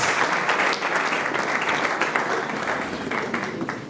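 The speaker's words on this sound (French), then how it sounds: "On les accompagne avec des acclamations" Loud, dense audience applause with cheering fills a live All Stars variety show, a steady wash of many hands clapping from start to finish without letting up.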